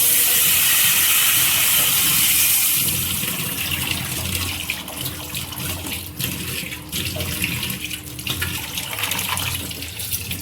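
Pulusu broth poured into a cooking pot, a steady close liquid gush that is loud at first and then eases into a softer continuous trickle.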